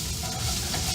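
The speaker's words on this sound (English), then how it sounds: "I'm going to stir up these veggies really quick" Onions and garlic are stirred in a hot cast iron skillet, giving a short burst of crackling sizzle with scraping stir noises close up and no voices.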